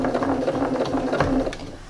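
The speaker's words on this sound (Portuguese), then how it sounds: "Então, eu venho aqui para passar a minha primeira costura." A sewing machine stitching the first seam of a fabric toiletry bag along an ironed binding, giving a steady, close, fast mechanical whir and clatter that slows near the end.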